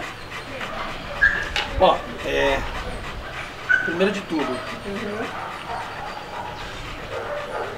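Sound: Rottweiler dog barking and whimpering

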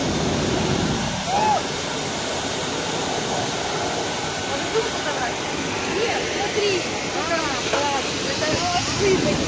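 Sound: small airplane engines on the tarmac

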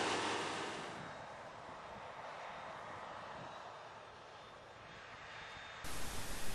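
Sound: tractor pulling seed drill

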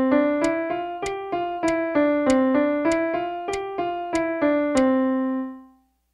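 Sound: piano playing a series of eighth notes on a five-note sequence

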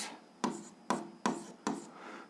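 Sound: writing an algebra equation

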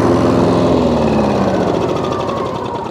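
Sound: petrol lawn mower engine running

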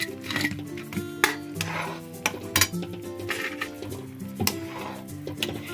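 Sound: stirring pakoras into boiling besan kadhi in a pot

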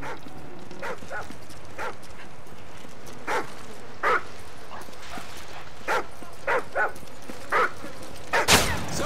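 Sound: attack dogs barking in Call of Duty Modern Warfare 3 video game

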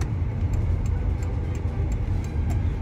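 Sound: Volkswagen Golf car engine climbing a hill

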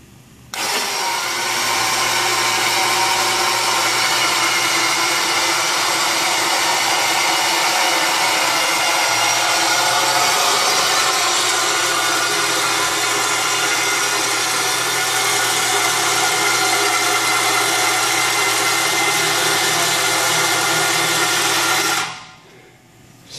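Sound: homemade material handler lifting a load

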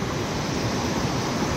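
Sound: flowing water in a mountain stream

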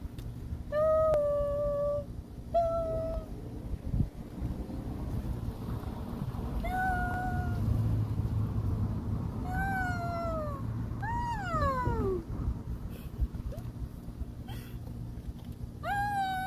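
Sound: cat meowing at a seaside fishing spot

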